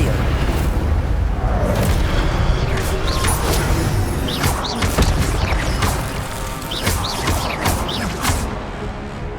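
Fire spells cast in the Hogwarts Legacy video game, with dense, crackling bursts and booming impacts that overlap continuously with battle clatter for the whole stretch. Speech is faintly present.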